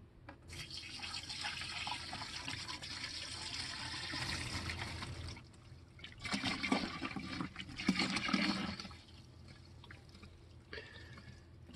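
Washer fluid is poured back into the reservoir of a 2007 Mercedes S550, a steady gurgling liquid stream with splashy surges in the middle, continuous and close, with no talk.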